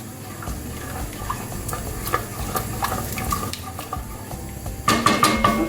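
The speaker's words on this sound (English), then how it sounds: "So just keep on stirring. Just stir everything." A spoon working through a pot of mac and cheese on the stove, scraping and clinking against the metal pot with soft wet stirring, ending in a louder cluster of knocks and clatter.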